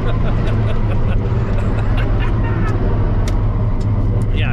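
A turbo LS-powered mega truck accelerating hard, its engine a steady, loud, dense roar held throughout with a constant low drone and some higher hiss and rattle near the end.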